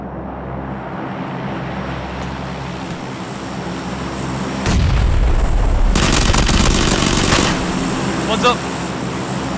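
Airplane engine drone in a video game swells from a steady hum into a loud, close roar as the plane passes overhead, with sharp bursts and scattered shots around it and people talking.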